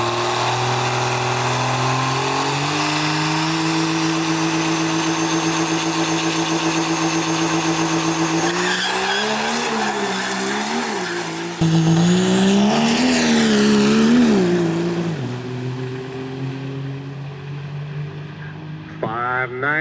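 Diesel trucks run a qualifying lap at Indianapolis, a loud, sustained engine roar that holds steady and then revs up and down in rising, falling sweeps, with a brief surge partway through before easing off.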